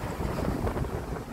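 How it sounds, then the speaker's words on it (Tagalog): Steady sea wind at Deep Water Bay rushes and buffets the microphone without a break, with a faint wash of water and surf underneath and no one talking. "Sarap ng hangin."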